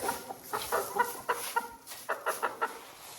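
Young chickens give a string of short, rapid clucks and peeps close by, irregular bursts tumbling over one another with no talk.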